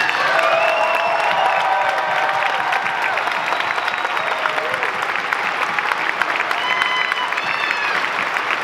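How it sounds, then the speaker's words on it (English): A large arena crowd applauds the bodybuilders on stage at the Arnold Classic 2017, sustained clapping with cheering voices rising over the steady roar. "So if y'all could please just join me in a round of applause to appreciate these guys here."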